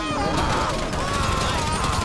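Rapid bursts of automatic gunfire from GTA 5 rattle close and loud, a dense continuous fusillade with sharp overlapping cracks throughout.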